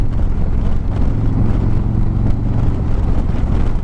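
A Harley-Davidson Street Glide with a Milwaukee-Eight 107 engine rides along with a steady, deep, loud engine rumble mixed with wind buffeting; no one speaks.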